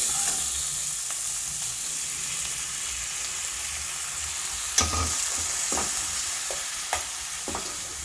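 Tomatoes frying in a hot pan for a tomato egg curry, a steady soft sizzle running throughout with occasional scrapes and clinks of a stirring spoon.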